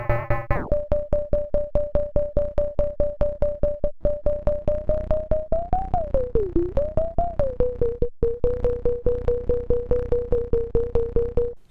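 A Kastle Drum synth module triggered by a clock pulses steadily with longer decay, each hit ringing into the next under a held pitched tone that wobbles and bends midway, no voices present.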